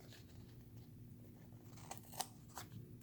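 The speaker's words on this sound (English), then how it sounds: "this side I will just trim off with my scissors" Scissors trimming the edge of a page in a reading journal, heard as a few faint, close snips and paper crunches over a low background hum.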